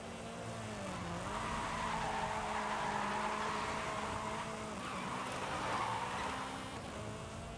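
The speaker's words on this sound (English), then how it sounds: "obviously while doing this I'm getting some nutty drifts" Car drifting with tires skidding in a racing video game's rivals mode, a steady loud engine drone with sustained tire squeal rising and falling, no voices.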